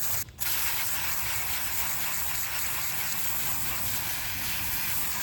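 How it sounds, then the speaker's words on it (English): A hose sprays water over a Honda Civic bumper, a steady close hiss and rush of spray that continues almost unbroken after a brief pause at the start. "I'm gonna give it a quick hose off."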